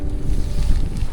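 Strong wind buffets the microphone outdoors on the Zambales coast, a dense, steady low roar with gusty surges and no voices.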